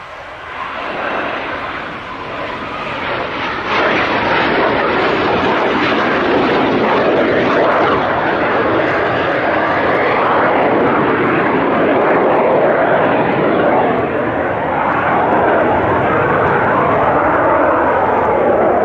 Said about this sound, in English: Now in come the two aircraft towards us for a break.